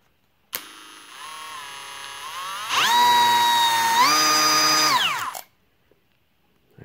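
A Ridgid Octane router spins up with a 1/8 inch JobMax bit fitted, giving a high whine that climbs in pitch in stages, then runs loud and close before cutting off abruptly.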